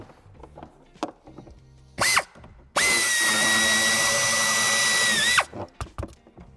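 A power drill or driver backs out a screw from the tail light of a 2021 Volkswagen Taigo, whining in a short burst and then a steady close, loud run of about three seconds, with lighter handling knocks before and after.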